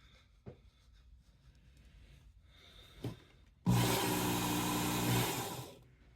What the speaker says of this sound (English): I think the idea is you want the pizza wheel to turn on its own and sharpen at the same time.